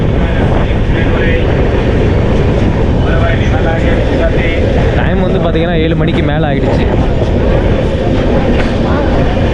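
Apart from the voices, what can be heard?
train running, heard from aboard the train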